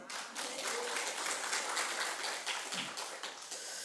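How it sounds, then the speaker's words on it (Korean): A church congregation claps together during a Sunday worship service, a steady, dense wash of hand claps lasting throughout, moderately loud and fairly near, with no talk over it. "박수 치면서 아멘."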